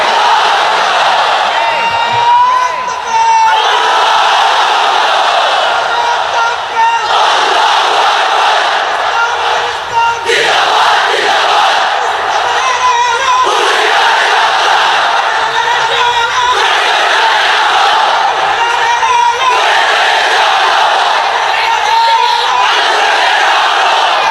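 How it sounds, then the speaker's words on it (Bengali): A large crowd chants a religious takbir slogan in unison inside a pandal, loud and sustained, with rhythmic swells of many voices repeating together and a leader's voice calling between them. "এক একটা তাকবীরে যাতে এই প্যান্ডেল কেঁপে ওঠে।"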